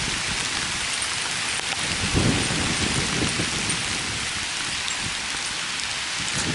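Heavy rain pours steadily through a downtown area during Hurricane Sandy, a dense continuous hiss with wind gusts swelling briefly, close and loud, no talking.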